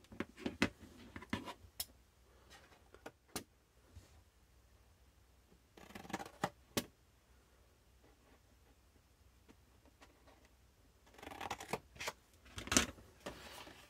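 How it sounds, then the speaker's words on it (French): Scissors snip through paper while a chocolate gift box is being cut out, short crisp cuts in quiet bursts at the start, middle and end, fairly close and soft, with no talk. "Maintenant, je vais venir couper ici les 3 parties du bas."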